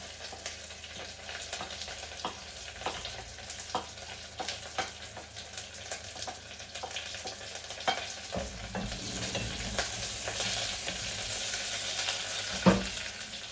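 Curry leaves, fried onion and fenugreek sauté in a hot pan with a low sizzle and scattered stirring clicks, then the hiss swells louder partway through as more goes in, with a sharp knock near the end.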